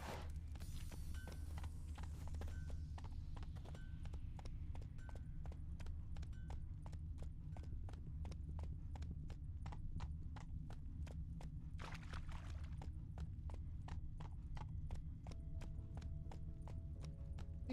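Roach the horse gallops in The Witcher 3, with quick, steady hoofbeats thudding throughout over low ambient game sound and music.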